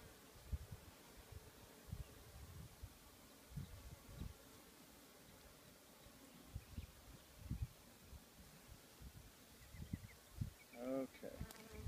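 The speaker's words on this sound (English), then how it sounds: "bees can get much more angry than that" A low, steady buzz of many honey bees droning nearby at a Kenyan top bar beehive, with soft rustling and occasional louder passes close by.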